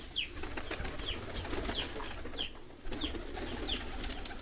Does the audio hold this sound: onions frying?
no